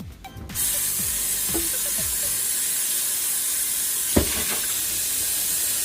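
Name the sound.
rinsing out a blender with water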